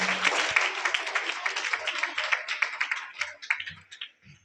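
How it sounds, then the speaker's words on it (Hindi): An audience at a school motivational seminar claps loudly to welcome a student, with dense, steady applause that thins out toward the end. "तो कृपया जोरदार ताली से इनका स्वागत करें।"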